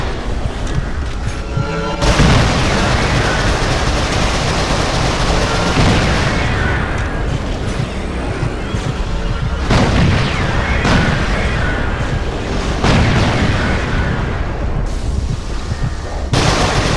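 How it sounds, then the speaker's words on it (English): Missile launcher explosions from the video game Resistance 3 form a loud, continuous barrage of heavy booms and blasts. The bursts crowd closely together, with sharper detonations standing out every few seconds. "Yes, that was a missile launcher, dude."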